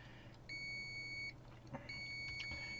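Electronic beeps from a small multimeter during a test, two steady tones about a second each separated by a short gap, fairly quiet against a low background hum.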